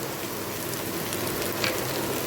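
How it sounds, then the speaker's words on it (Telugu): Tomatoes added to a pan of fried onions, sizzling steadily and evenly throughout, close and moderately loud, with no talk. "ఆనియన్ వేగాక ఇప్పుడు టమాటాలు వేయాలి."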